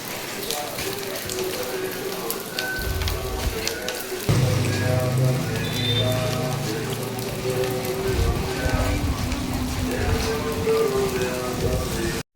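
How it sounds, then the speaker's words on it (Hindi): Rain falls steadily on outdoor surfaces with a light wind, a dense, continuous patter that thickens partway through, while a person talks over it. "तो अब बारिश पड़ने लग गई है, हल्की हल्की हवा भी चल रही है"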